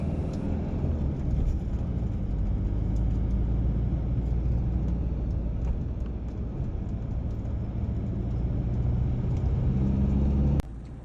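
A vehicle drives along a rugged Andes mountain road, giving a steady loud rumbling engine and road noise that continues without talk, then cuts off abruptly near the end.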